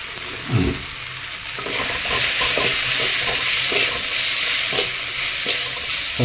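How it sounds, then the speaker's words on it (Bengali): Ingredients for a thin rohu fish curry with salt and water sizzle loudly in a pan as a spoon stirs through them, a close, dense frying hiss with repeated scraping strokes and no speech. "সবটাকে ভালো করে মিশিয়ে নেবো"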